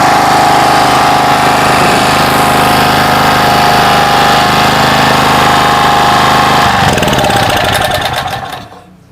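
A petrol generator restarted after a year of disuse runs loudly and close, with an even, rough engine drone that holds for several seconds and then sputters and fades as it shuts down.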